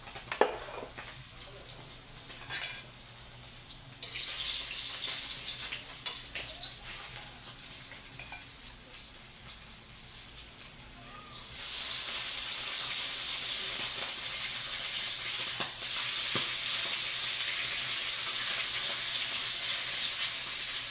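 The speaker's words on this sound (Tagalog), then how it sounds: "nagpiprito pa ako ng ating bangos" Milkfish (bangus) fries in hot oil with a continuous close hiss and sizzle that swells louder partway through, with a few scattered pops.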